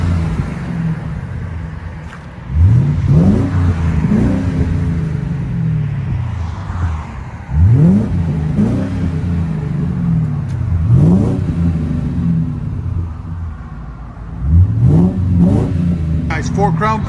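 A Ford Crown Victoria 4.6L V8 with a Borla Touring Edition dual exhaust revs hard several times in repeated rising bursts, a deep throaty exhaust roar climbing and falling, loud and close.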